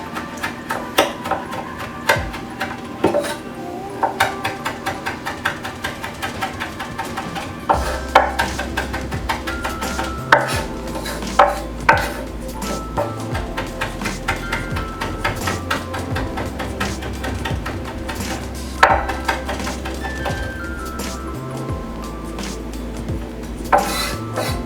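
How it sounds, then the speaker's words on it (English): Fresh thyme chopped with a knife on a cutting board, a rapid run of close, sharp taps and scrapes in uneven bursts, with no voices. "next we're going to chop up our thyme"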